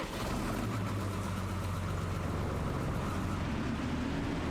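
Tractor engine in Farming Simulator 25 running steadily with a deep, low rumbling drone that stays loud and constant throughout, no talk over it.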